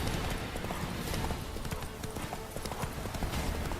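Roach, Geralt's horse in The Witcher 3: Hearts of Stone, hooves clopping in a dense steady rhythm with a faint whinny, fairly close and loud over game ambience, with little talk.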